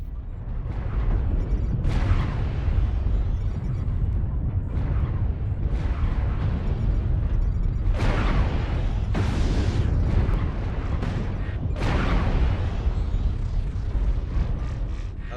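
Heavy PPC weapon fire and explosions in the mech combat game MechWarrior Online, a steady roar of blasts with sharp bursts cracking out every couple of seconds over a dense rumbling battle bed, loud and close.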